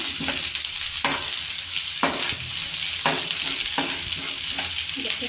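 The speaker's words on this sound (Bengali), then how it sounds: "এগুলোকে একটু নাড়ছি" Bay leaves and cumin seeds frying in a pan for an Indian-style chicken and potato curry: a continuous hissing sizzle broken by a scraping stir about once a second, close and fairly loud, with no speech.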